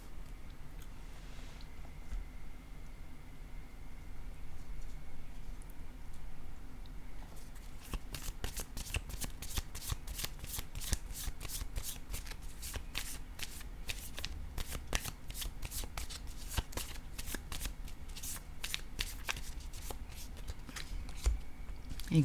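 Tarot cards are shuffled in a long, quick run of crisp, rhythmic flicks that starts after a quieter stretch of about seven seconds. It is close and moderately loud, with no talking.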